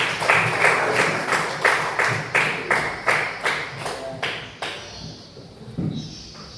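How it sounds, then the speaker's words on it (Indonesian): Classroom applause for a classmate in a seventh-grade social studies class, a sparse group clapping in a loose, rhythmic pattern of distinct claps that thins out toward the end. "Silakan berikan aplaus untuk teman kalian"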